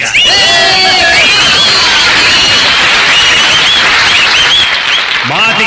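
An audience claps and cheers loudly and steadily, with screams, whistles and crowd babble mixed into the ovation.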